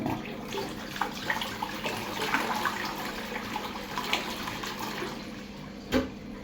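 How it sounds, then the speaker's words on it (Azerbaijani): Toilet flushes up close, a steady rush of swirling water running throughout with a few faint clicks and a brief louder knock near the end, no talking. "Bax, mən indi bunun suyunu vuracam, diqqətlə baxın."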